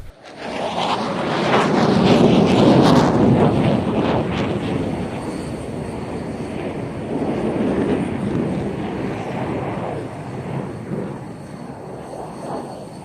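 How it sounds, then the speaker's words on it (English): An F-16 and a JF-17 Thunder fighter jet perform loops and turns at an air show, a loud broad roar that swells early then fades to a distant rumble, with wind buffeting the microphone. "The F-16 completes the loop and goes straight into its own 360."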